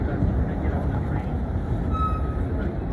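Steady rumbling subway train noise with a rattling, rolling roar, close and continuous, and a brief high squeal near the end.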